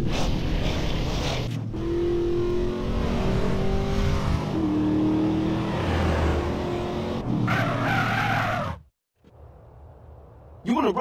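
A car races along in GTA San Andreas Definitive Edition with engine roar and squealing tires, loud and continuous, overlapping in-game dialogue and music before cutting out abruptly near the end.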